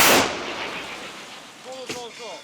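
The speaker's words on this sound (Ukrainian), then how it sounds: "Постріл!" A single heavy artillery shot, from an Italian Model 56 pack howitzer fired by Ukrainian forces, booms loud at the start and then rolls away into a long fading rumble, with brief voices near the end.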